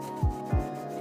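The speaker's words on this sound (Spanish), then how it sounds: "Con la ayuda de un estropajo de fibras afinaremos el recorte realizado." Two quick abrasive rubbing strokes of a fibre scouring pad smoothing a cut edge in plastic on a 2021 Renault Arkana during towbar fitting, close and soft over a steady background hum.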